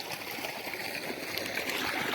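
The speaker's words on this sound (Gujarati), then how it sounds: "તો મસ્ત પાણીનો ધોર્યો આવેલો જાય છે." Irrigation water flows along a field channel in a wheat field, a faint, steady trickling and gurgling rush close by with no voices.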